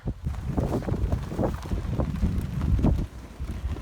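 Gusty wind buffets the microphone in loud, rumbling bursts that rise and fall, with no talking, on a 1542-metre mountain summit in the Eastern Gorgany, Ukraine.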